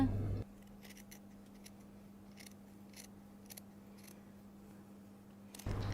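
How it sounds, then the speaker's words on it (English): Sharp scissors trim a few millimetres of cashmere fabric along a tiny seam, giving a series of crisp, quiet snips spaced irregularly over a steady low hum, close to the ear. "I'm cutting just a couple of millimeters."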